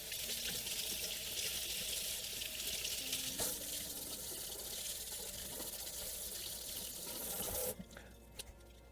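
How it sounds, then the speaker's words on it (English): Tap water runs steadily over a graphics card heatsink as it is rinsed in a sink, a continuous close splashing hiss that falls away near the end, leaving a few drips. "with some warm water. All right, this isn't an electronic component, so tap water's not a big deal. I'm just gonna rinse it out really well."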